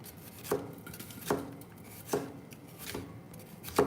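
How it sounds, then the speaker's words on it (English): A knife dices vegetables on a cutting board in five evenly spaced chops, each a crisp thud against a low background, with no voices. "So dicing them up, I guess, is kind of what I'm doing."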